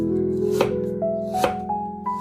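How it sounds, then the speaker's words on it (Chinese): A knife slices through a peeled piece of fresh ginger on a board, making two or three crisp, distinct cuts over steady background music. "再准备1块去了皮的生姜，"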